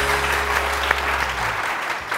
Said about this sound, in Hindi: आपा के लिए बहुत सारी तालियां